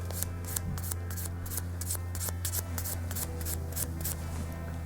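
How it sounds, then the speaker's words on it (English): A very fine grit file rubs across a natural nail during a nail-forms manicure, giving rapid, even scratchy strokes in a steady rhythm over a low constant hum, close and fairly quiet. "And I'm using a very fine grit file."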